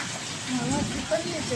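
Rain from the first sowing-season downpour in Lathi, driven by strong wind, a broad steady hiss with a person talking over it throughout.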